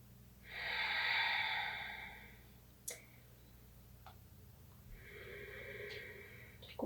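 A slow, audible breath during a morning core yoga flow: a long airy inhale, a pause with faint ticks, then a softer drawn-out exhale, close and steady over a quiet low room hum.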